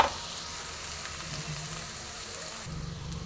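Chopped onion frying in oil with chillies in a pan, a steady soft sizzle that holds throughout, with a brief clatter of stirring near the end.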